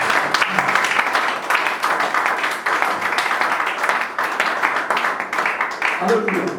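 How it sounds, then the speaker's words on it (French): A church congregation applauds together in acclamation of God, a dense, sustained clapping that fills the room, with voices mixed in. "Acclamons le roi des gloires"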